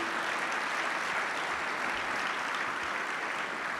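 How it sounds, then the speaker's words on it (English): A room full of guests at a mayor's state-of-the-city breakfast applauds the servers, a dense, even wash of clapping held steady throughout. "can you give a round of applause to our servers, please?"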